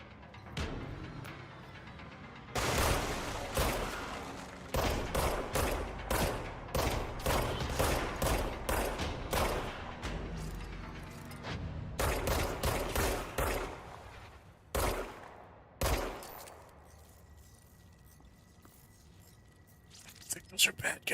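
Enemy rifles in the video game Control fire in rapid tapped bursts, a dense run of sharp, loud gunshots from about 2.5 to 16 seconds that trails off into quieter reverberant ambience.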